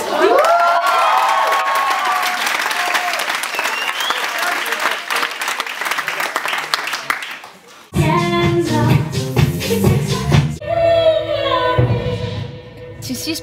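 A theatre audience at a children's musical show erupts in loud, sustained cheering, applause and high-pitched shouting and whooping, then quiets briefly before voices and music-like sounds resume amid more crowd noise.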